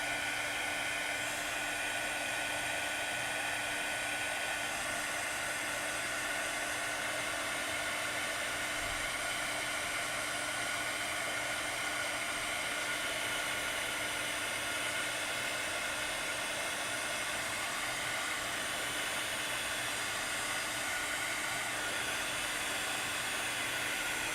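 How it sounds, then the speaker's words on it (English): A heat gun used in mixed media crafting blows without a break, a loud, steady rushing hiss that holds evenly throughout with no talking. "that heat gun's going to really help a lot there"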